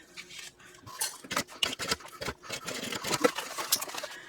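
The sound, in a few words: snipping sewing threads with scissors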